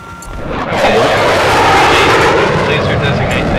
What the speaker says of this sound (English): I'm in the fighter jet, by the way.